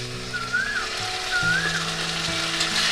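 Ginger garlic paste hits browned onions, cumin and bay leaf in a hot pan for a taro and prawn curry, sizzling and crackling steadily up close with light stirring.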